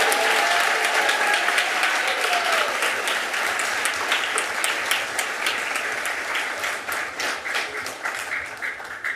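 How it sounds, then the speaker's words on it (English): Audience applause at a Costa Mesa city council meeting honoring a youth baseball team, a steady wash of many hands clapping that slowly thins toward the end. "Now you can clap."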